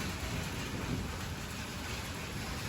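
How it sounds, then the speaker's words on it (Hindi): Steady rain falls in a faint, even hiss of broadband patter that holds without letting up, heard alone with no talking. "देखो ये फिर आ गई बारिश।"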